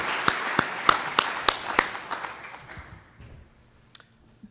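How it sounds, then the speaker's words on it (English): A short burst of clapping from a small group, sharp claps at first that thin out and fade within a few seconds. "give Greg and Pacific Whale Foundation a big round of applause"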